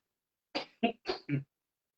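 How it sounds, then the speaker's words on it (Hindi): Four quick, harsh coughs in a row, close and alone against silence. "सॉरी, खांसी हो रही है।"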